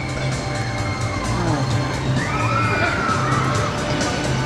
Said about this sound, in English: And if you can hear screaming, I'll show you why.